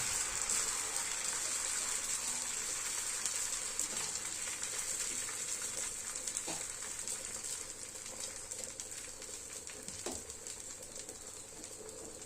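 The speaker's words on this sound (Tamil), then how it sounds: "மாவை ஊற்றவும், ஊற்றி நன்றாக தேய்க்கவும்" Dosa batter for egg dosa is poured onto a hot pan and spread around, giving a steady, close hiss and sizzle that runs the whole time with a few soft scraping knocks.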